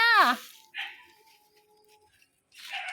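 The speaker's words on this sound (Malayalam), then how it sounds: "എന്തിനാ കുരയ്ക്കുന്നേ?" A dog gives a short, sharp bark, followed by a faint whine and another bark starting at the end, with quiet gaps between.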